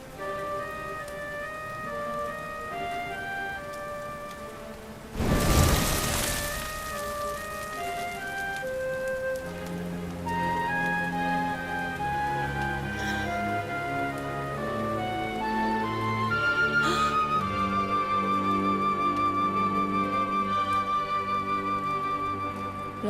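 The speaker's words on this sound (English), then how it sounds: "Looks like the rain's dying down." Rain falling in the fantasy role-playing game Dragon Quest XI, a soft wash of rainfall under melodic game music, with a brief louder burst early on.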